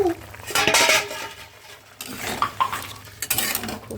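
A metal pot lid comes off a simmering chicken stew, clattering and clinking against cookware in a few sharp bursts separated by quieter pauses, with small scrapes and taps afterward.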